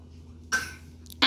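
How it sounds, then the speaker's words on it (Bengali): A young girl coughs indoors at home, two short harsh bursts separated by a pause, close to the listener, against a quiet background hum. "কাশি কেন মা?"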